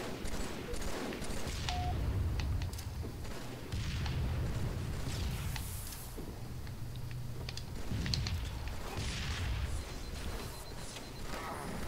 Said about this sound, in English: where did that nade come from?